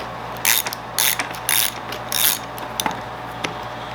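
Bolt of a random orbital sander's hook-and-loop backing pad being unscrewed by hand, four short ratcheting bursts in a steady rhythm followed by a few lighter clicks, close and clear with no talk.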